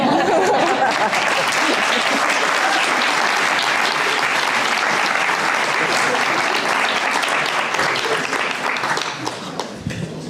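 Sustained audience applause at a Guide Dogs for the Blind class graduation, a dense, loud wall of clapping lasting about ten seconds before thinning out near the end.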